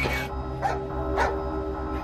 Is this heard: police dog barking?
yes